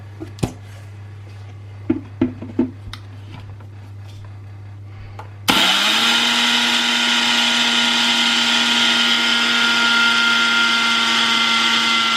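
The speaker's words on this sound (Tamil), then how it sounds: "நான் இப்போது 8 மணித்தியாலங்கள் நனைய வைத்து வேற வைத்த அரிசியினை எடுத்து இந்த மிக்சியில் போட்டு அரைக்க போகின்றேன்." Electric mixer grinder grinding rice soaked for eight hours into flour: a few light clicks and knocks, then the motor starts abruptly and keeps up a loud, steady high whine, no talk.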